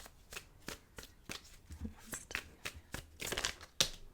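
Tarot cards shuffled by hand produce a string of close, crisp riffles and soft slaps, about a dozen short bursts at an uneven pace, fairly quiet and without talk.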